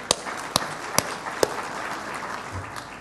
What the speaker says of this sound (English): another round of applause for Victoria